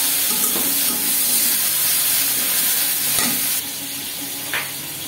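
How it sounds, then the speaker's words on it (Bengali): Onion fries with garlic, ginger, cumin and coriander paste in a pan, a continuous close hissing sizzle with a few stirring scrapes. "এবার আমি এখানে একটু রসুন বাটা, আদা জিরা, ধনিয়া বাটা একসাথে দিয়ে দিলাম।"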